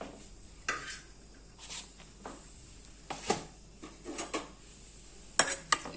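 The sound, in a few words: mixing bottle gourd raita in a bowl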